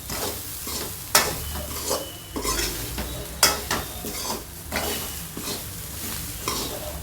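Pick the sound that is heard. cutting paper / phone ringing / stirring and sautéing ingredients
stirring and sautéing ingredients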